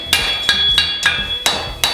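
Hand hammer striking a forged steel horseshoe on an anvil to flatten the foot surface, five sharp metallic blows in an uneven rhythm, close and loud with ringing overtones.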